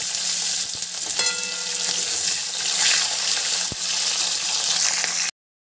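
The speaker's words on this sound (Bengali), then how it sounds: "এবার দিয়ে দেবো টমেটো আর কাঁচা লঙ্কা, বেশ ভালো করে একটু ভেজে নেব" Tomato and green chilli frying in a pan of hot oil after tempering spices, a loud continuous sizzle with a couple of sharp utensil taps, heard alone with no voices before it cuts off.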